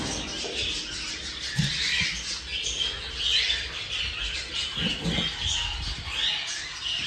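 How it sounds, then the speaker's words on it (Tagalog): Birds in a breeding cage give soft squawks and chirps at a moderate distance over a low background hum, the calls scattered and irregular throughout. "meron na rin mga kaibon, no?"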